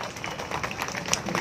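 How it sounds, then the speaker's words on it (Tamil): A crowd claps in applause at a birthday celebration for Tamil Nadu's deputy chief minister, a steady broadband patter of many hands lasting throughout with no speech over it. "நல்ல கைத்தட்டலாம்."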